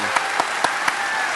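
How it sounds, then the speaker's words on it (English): A conference audience at a hacking convention gives a round of applause, a steady wash of clapping with a few louder claps popping out at regular intervals. "give them a round of applause, please"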